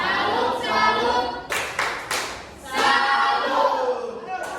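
Classroom of children clapping hands together in a rhythmic chant, bursts of claps mixed with young voices chanting along, loud and close.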